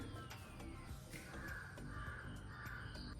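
Several raspy crow caws come one after another at a medium distance over a continuous low background hum, with no voices.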